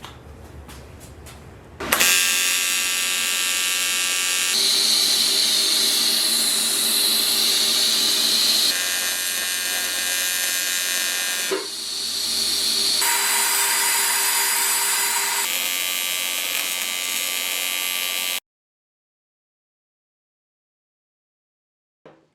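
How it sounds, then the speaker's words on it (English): A TIG welder runs on aluminum in a garage during a K24 AWD CRX build, giving a loud, steady hissing buzz for about sixteen seconds, with a brief dip midway, before cutting to silence. "This is actually my very first time welding aluminum with my TIG machine"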